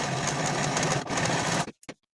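A sewing machine finishes the center back edges of a dress bodice, running steadily and loudly up close, then stopping with a couple of short final stitches.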